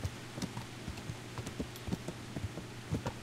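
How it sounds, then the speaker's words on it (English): Rain falling in the medieval game Kingdom Come: Deliverance, a faint steady hiss beneath the rhythmic clip-clop of horse hooves moving at a walk. "It rains a lot in this game."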